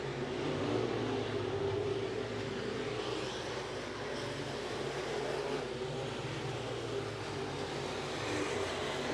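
SportMod race cars at Eagle Raceway make a continuous engine roar from a distance, a steady broad drone without breaks.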